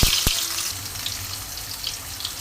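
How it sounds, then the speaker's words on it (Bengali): Diced coconut pieces fry in hot oil over a medium flame, producing a soft, even crackling sizzle close by, with a sharp clank near the start. "ডুমো করে কেটে রাখা নারকেলের কুচিগুলি এই যে দেখো আমি ভালো করে লাল করে ভেজে নেব"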